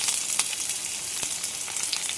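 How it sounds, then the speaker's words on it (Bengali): Garlic and onion fry in a wok for vegetable rice, giving a steady close crackling sizzle with small pops and no voices. "কড়াইতে দিয়ে দিলাম রসুন, দিয়ে দিলাম পেঁয়াজ, একদম ভেজে ভেজে ভেজ রাইস একটা বানিয়ে দেবো"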